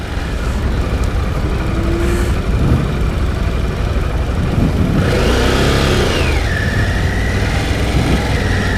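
A Harley-Davidson Pan America motorcycle rumbles loudly and then revs up as it pulls away, its engine pitch climbing partway through the ride-off over steady wind noise.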